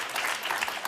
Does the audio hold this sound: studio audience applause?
yes